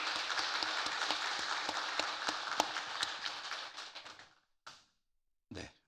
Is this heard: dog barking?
no